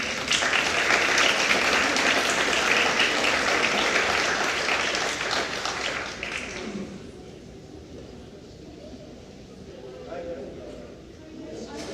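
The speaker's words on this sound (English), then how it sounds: "How about one more round of applause for all of our award winners?" Audience applause for award winners at a Board of Education meeting, a dense, steady crowd of clapping for about six seconds that then thins and fades into quieter room noise with scattered claps.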